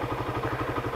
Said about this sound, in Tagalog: ayan yung andar ng Raider 150 natin